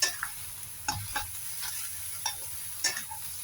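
Eggplant is stir-fried in a hot pan, with a steady sizzle under a few sharp scrapes and clacks as the spatula flips and turns the pieces, close by and without talk.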